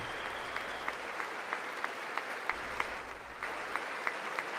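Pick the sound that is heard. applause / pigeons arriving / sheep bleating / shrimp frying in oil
applause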